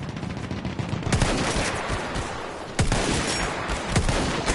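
Dense gunfire in the Battlefield 1 video game, with rapid automatic bursts and loud single shots overlapping continuously at close range.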